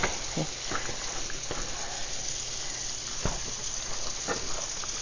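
Ground sausage with red pepper sizzling in a pan, a steady close frying hiss with occasional soft clicks and scrapes of stirring, mostly alone with faint talk.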